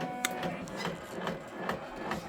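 A 10-needle embroidery machine stitches a tiled Easter scene, giving a steady mechanical whir with a quick repeating needle rhythm, close and continuous, with no talking.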